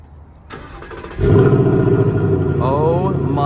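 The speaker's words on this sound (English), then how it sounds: "for now, we're just gonna have to deal with the stock base non-active exhaust, which is pretty brutal" A 2024 Ford Mustang GT with the stock base non-active exhaust cranks and catches loudly up close, then settles into a steady, throaty idle rumble as a voice briefly chimes in near the end.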